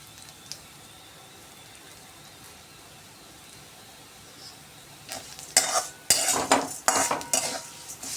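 Vermicelli upma being stirred with salt in a pan: a quiet faint sizzle at first, then loud, close scraping and clattering of a spoon against the pan in rapid bursts.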